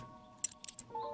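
A key is picked up in a video game demo, a short bright metallic jingle sounding as a few quick chimes over a quiet, steady game background.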